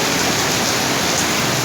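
Heavy rain driven by strong wind pours down in Rawalpindi, a dense, loud, continuous hiss with no gaps or voices.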